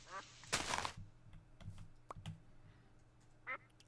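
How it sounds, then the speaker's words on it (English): Ducks quack in the TerraFirmaCraft Minecraft game, with a loud burst of quacking near the start, a few softer quacks after it and one short call near the end, over quiet keyboard clicks. "Oh, that's a duck."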